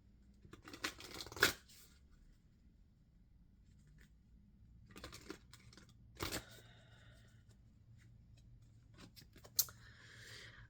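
A Moonology oracle card deck is shuffled by hand in a quiet room, soft papery riffles and flicks arriving in a few separate short bursts with pauses between, close and faint, no voices.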